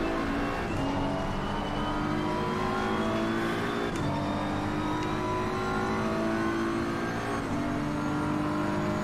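Lamborghini race car engine in a racing video game at Watkins Glen, a steady high-pitched roar that climbs through the revs, drops briefly at gear shifts and climbs again, continuous and fairly close.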